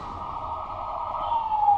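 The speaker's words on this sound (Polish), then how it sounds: "Karetka." An ambulance siren wails in Resident Evil 6. It is faint and steady and swells slightly toward the end, heard briefly with no talk.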